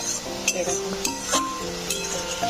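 Spices and cumin paste are stirred and sautéed in a pan for a wedding-style chhyachra, with a low sizzle under uneven spatula scrapes and occasional metallic clinks, close by.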